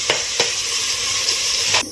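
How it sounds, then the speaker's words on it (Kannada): Onions frying with spices in a pan at home, a steady close sizzle with a few sharp scrapes of stirring spaced through it and no talk. "ಇವಾಗ ಅದನ್ನ ಹಾಕೊಂಡು ಫ್ರೈ ಮಾಡ್ಕೊಳ್ಳಿ ಗೈಸ್"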